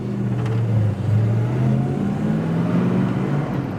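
A 1972 Chevelle with a 402 big block cruises in traffic, its engine a steady close low rumble with gentle shifts in pitch and no talk over it.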